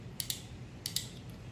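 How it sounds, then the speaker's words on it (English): A 12 volt automotive relay snaps on and off with sharp, crisp mechanical clicks, arriving in close pairs about a tenth of a second apart, then a single softer click, heard up close against a quiet background. "The clicking sound you are hearing is the relay getting excited by a 12 volt power and ground"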